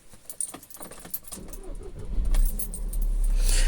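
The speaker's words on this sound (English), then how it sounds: "So let me start the car." Keys jangle and a 2013 VW Tiguan engine cranks and catches, settling into a steady low idle close by after a few seconds of rattling.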